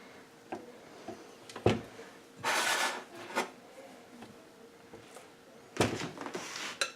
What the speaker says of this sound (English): Just going to scrape that down.